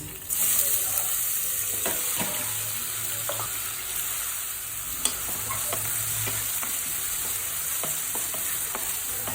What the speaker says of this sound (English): So fry until it turns into the golden brown color.